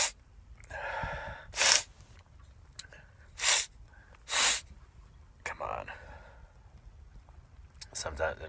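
Several sharp sneezes after sniffing cayenne pepper, four or five bursts spaced a second or so apart, loud and close, with sniffs and breathy gasps between them.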